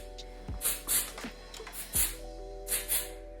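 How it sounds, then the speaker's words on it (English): Short hissing blasts of Flirt texture spray are misted onto hair while styling an updo, several quick close spurts in an irregular rhythm, with no talking. "So I'm just going to go ahead with our Flirt spray, which is our texture spray."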